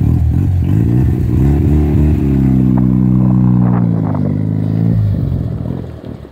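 A 1992 Mazda RX-7 FD rotary engine revs on a test drive, a loud, close, buzzing drone that holds steady, rises in pitch, then drops and tails off at the end.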